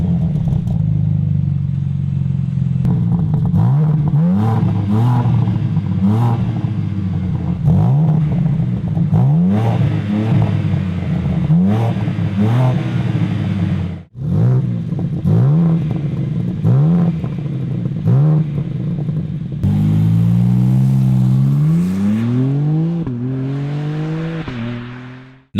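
A 2026 Mercedes-AMG S63E Performance luxury sedan accelerates hard through repeated gear changes, its engine note climbing and dropping in a rising sawtooth pattern, loud and close, with one short break midway before a final strong pull.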